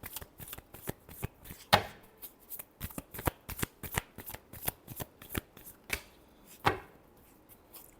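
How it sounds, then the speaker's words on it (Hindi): Tarot cards shuffled by hand in a rapid run of crisp riffling slaps and flutters, close and fairly loud, with a few sharper louder snaps among them and no talking over it. "Last shuffle."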